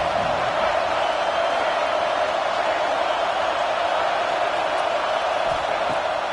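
Large stadium crowd roaring steadily at a college football game in Happy Valley on third down, a dense sustained wash of cheering noise throughout.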